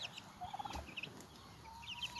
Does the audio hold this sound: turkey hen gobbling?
yes